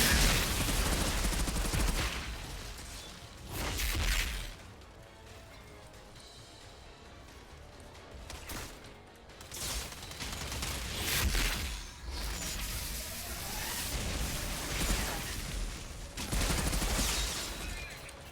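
Loud, dense gunfire in a video game, with enemy shotgun blasts and rapid shots crashing in waves over dense battle noise for the whole stretch, with no talking.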